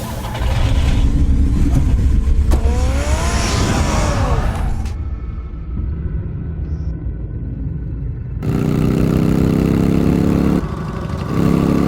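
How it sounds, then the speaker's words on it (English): Batmobile engine in Batman: The Telltale Series video game starting and driving off: a loud, continuous rumble with a rising rev, a brief quieter stretch, then a heavier surge of engine roar. "Get the car ready, Alfred."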